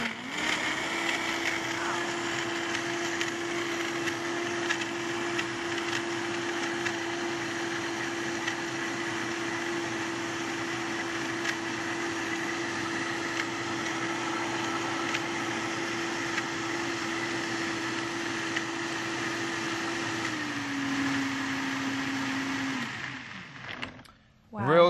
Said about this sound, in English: And I'm just going to go ahead and blend that.